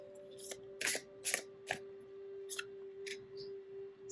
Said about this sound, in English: I have your cards here in my hand, so I'm going to shuffle